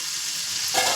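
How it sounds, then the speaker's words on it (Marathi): Whole spices, bay leaf, cinnamon, clove and black pepper, sizzling in hot oil, a loud close steady hiss that swells briefly near the end. "आपण टाकणार आहोत याच्यामध्ये खडे मसाले. तेजपत्ता, दालचिनी, लवंग आणि काळी मिरी."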